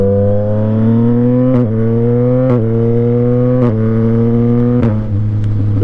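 A Yamaha MT-09 motorcycle's engine pulls hard with a deep, throaty drone, stepping through quick gear changes with brief dips roughly every second as the pitch climbs again. It is loud and steady throughout, with no voices.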